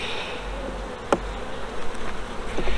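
Honey bees buzzing around an open hive with a deep and medium box during an inspection, a dense, steady hum close by with a few sharp knocks and clicks of handling.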